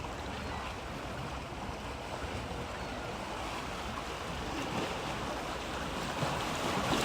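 Sea waves crashing into rocks, a steady broad wash of surf with wind noise, continuous and fairly close, rising slightly toward the end, no talk.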